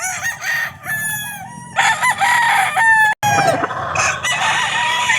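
A gray Sweater gamefowl rooster on a game farm crows repeatedly and loudly nearby, its drawn-out calls overlapping with other roosters crowing in the background, with no talking.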